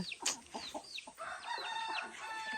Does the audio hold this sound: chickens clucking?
yes